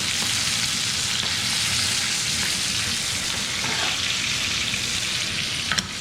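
Garlic frying in a pan for air-fried short rib with French fries, a steady dense sizzle crackling throughout at close range, with a few faint stirring scrapes and one sharper pop near the end.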